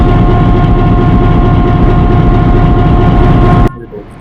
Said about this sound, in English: I think the locomotive idling kind of messed up.